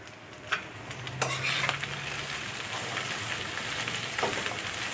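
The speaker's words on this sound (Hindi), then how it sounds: "अब ये फ्राई होना शुरू हो गया, तो अब हम इसके अंदर ये गोश्त डाल देंगे।" Beef pieces frying and stirred in a hot pan for a spiced beef dish, a steady close sizzle with scraping strokes of a spoon rising through it.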